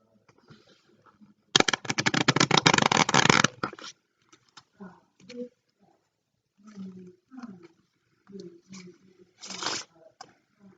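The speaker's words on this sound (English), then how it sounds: "and then we're going to do a riffle shuffle" A loud burst of rapid, fluttering card riffling lasting about two seconds, followed by a brief second riffle later, with quiet talking in between.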